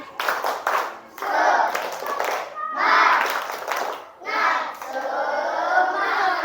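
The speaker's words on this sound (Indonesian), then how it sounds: "Tepuk satu, tepuk dua, tepuk tiga, tepuk semangat" Schoolchildren in a classroom clap out the tepuk semangat rhythm, bursts of quick hand claps in short counted groups with brief pauses between them, close and lively, with children's voices chanting along.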